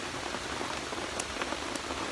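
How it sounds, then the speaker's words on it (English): Rain falls steadily outdoors, a dense even hiss of drops with a few brighter taps standing out, no voices. "it's raining"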